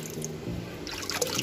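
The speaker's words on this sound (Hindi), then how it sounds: "और मैं अभी कूलर में पानी भर रहा हूँ" Water pours into a household air cooler's tank, a close trickling and splashing with bright drips that grows busier toward the end, heard without any talk.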